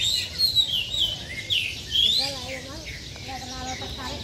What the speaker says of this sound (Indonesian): Ini jalak Bali nih.